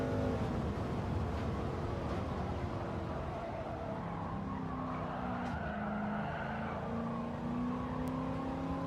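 A race car in a Gran Turismo 7 time trial, its engine revving and shifting pitch through a lap with tires squealing, steady and prominent, with no talking.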